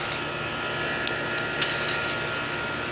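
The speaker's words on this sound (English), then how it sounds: "I'm sorry for the air conditioning, it's running." An air conditioning unit runs as a steady, faint broadband hum near a home hose reel setup, with a few small clicks and knocks over the continuous drone and no talking.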